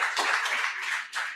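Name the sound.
audience clapping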